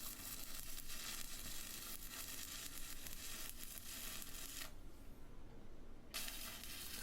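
Arc welding a hard-facing bead onto Hardox steel crusher parts makes a steady, close crackling sizzle. It holds for about five seconds, cuts out briefly, then strikes again.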